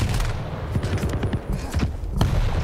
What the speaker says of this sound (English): Good use of the heavy machine gun as well from Tox so far.